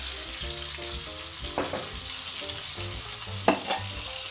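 Three sliced onions, cut in half-moons, frying in heated oil, a steady soft sizzle with a few louder crackles as they are stirred, heard close with no talking.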